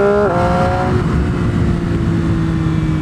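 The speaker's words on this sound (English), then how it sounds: "Down 2 gears with that spicy 3-cylinder sound" A 2020 MV Agusta F3 800 RC three-cylinder motorcycle engine revs loud and close, dropping two gears with quick blips before settling into a steady, raw drone.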